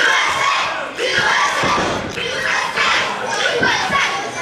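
A wrestling arena crowd roars and shouts continuously during a match, loud and dense with rising and falling waves of cheering and chanting, while voices talk over the din.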